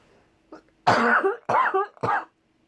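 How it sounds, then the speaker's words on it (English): Three harsh coughs come close to the mic in quick succession after a small throat sound, with silence around them. "Sorry, I'm going to cough."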